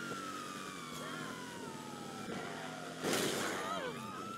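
A police car siren wails in GTA 5, a falling tone sweeping steadily beneath engine and traffic noise, with a brief louder burst near the end while a player talks over it.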